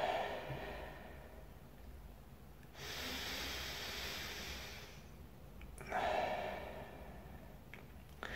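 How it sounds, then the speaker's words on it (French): Slow, deep breaths drawn in through the nose during a guided breathing exercise: two long, soft, airy inhales with quiet pauses around them, faint and close, with no speech. "Il faut vraiment prendre le temps d'inspirer par le nez et vraiment inspirer jusqu'au bout."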